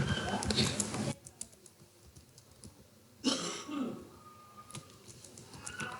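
Address typed into an online tax-filer registration form on a computer keyboard, copied from an ID card in three parts: two dense clusters of rapid, close key clicks separated by a quieter gap.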